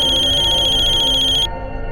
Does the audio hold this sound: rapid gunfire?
no